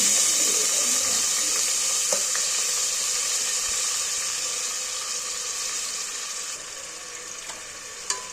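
Sliced onions dropped into well-heated oil hiss in a continuous bright sizzle, moderately quiet and easing slightly as it goes, with a couple of faint clicks near the end.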